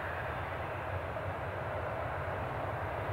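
An aircraft engine starts up at Newcastle International Airport, heard from a distance as a steady broad roar and rumble with no distinct events.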